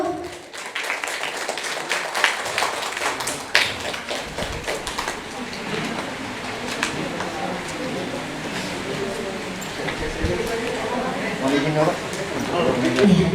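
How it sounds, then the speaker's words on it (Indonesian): At a school graduation ceremony in Situbondo, an audience gives scattered clapping, a loose patter of hands spread across the hall that continues under people talking. "Kita berikan tepuk tangan terlebih dahulu."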